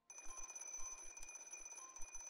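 An alarm clock in the video game Dream rings with a fast, steady electronic beeping pattern, clear and alone for a couple of seconds.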